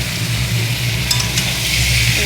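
Young jackfruit pieces go into a frying pan of potatoes cooked with onion, garlic, tomato and ginger, giving a steady loud sizzle of hot oil throughout.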